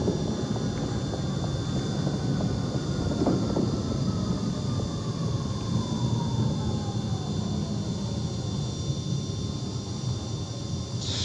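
A Citation Jet 525 rolling out after landing in the X-Plane flight simulator, with full ground flaps and manual braking: a steady, loud engine and rumble drone with a long falling whine, continuous and without talk.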